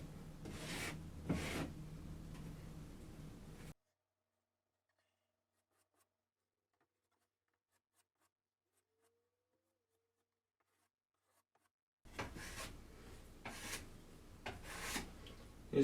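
A putty knife scrapes and smears patching compound into a hole in a drywall wall, close soft rasping strokes in two bursts separated by a long silent gap.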